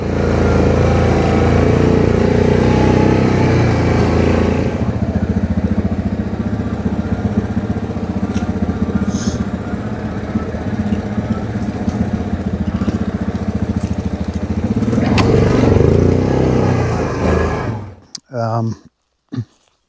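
An ATV engine runs steadily at close range while riding outdoors, a continuous droning roar under talk that cuts off near the end.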